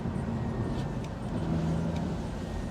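Steady engine drone from a BMW E46 330ci coupe cruising along a country B road in third gear, a continuous low hum with road and wind noise throughout, no pauses.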